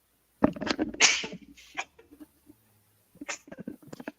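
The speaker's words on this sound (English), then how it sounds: "I had to sneeze and couldn't mute myself fast enough." A single sharp sneeze bursts out near the microphone, followed by a few faint rustles and small breathy sounds.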